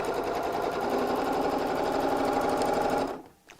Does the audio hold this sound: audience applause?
no